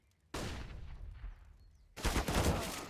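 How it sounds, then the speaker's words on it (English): A flashbang grenade bursts in Counter-Strike during a 2023 Paris Major match: a sudden sharp blast that rings on, followed by a second louder burst of gunfire-like cracks. "Oof, nice flashbang there."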